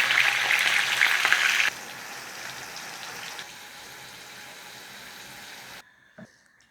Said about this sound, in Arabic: دلوقتي هحمر الفلفل